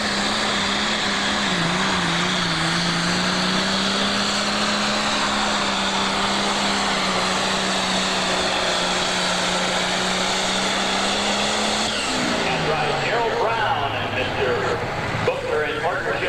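A loud, steady pro stock pulling tractor engine roar drones on for a long stretch with a sustained low hum at the 1988 Ohio State Fair pull, then shifts and wavers near the end.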